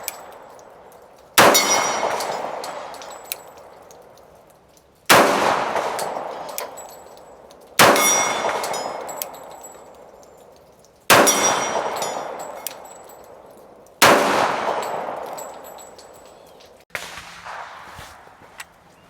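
Bullets from a .45 ACP pistol strike a big steel gong target at a sportsman's club range. Five or six loud metallic clangs ring out seconds apart, each one ringing on and slowly fading before the next.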